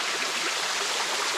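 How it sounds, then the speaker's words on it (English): A small waterfall spills into a hot spring pool in the Idaho backcountry, making a steady, close, hissing rush of flowing water with no voices. "This is the surprise, a hot spring with a waterfall."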